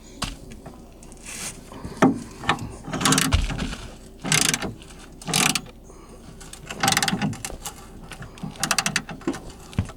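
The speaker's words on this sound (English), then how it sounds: "So I'm gonna go ahead and get those loosened up" A ratchet loosens the mounting bolts of an Onan RV QG generator, giving repeated short bursts of rapid clicking separated by pauses, with occasional knocks of metal on metal, close and fairly loud.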